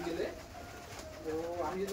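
Kaldom and Kasmadom breed pigeons coo softly nearby, low throaty murmurs rising and falling over a short stretch.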